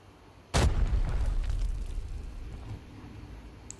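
A grenade detonates in the shooter game Arena Breakout: one sudden, heavy blast with a deep boom that rolls and decays over a few seconds, loud and close, with no voices.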